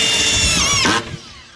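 Battery-powered screwdriver driving screws through layered steel, a brief close high-pitched whirring drive that winds down abruptly after about a second.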